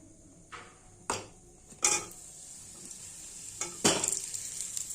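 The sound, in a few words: fried potatoes added to pan and stirred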